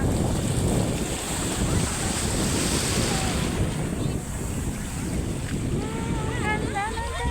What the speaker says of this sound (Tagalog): ang lakas ng alon, umabot talaga dito yung tubig